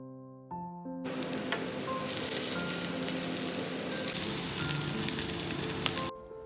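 Cumin and coriander powder with black pepper fry in a pan with a dense, steady sizzle and occasional stirring clicks, framed by soft background music at the start and end.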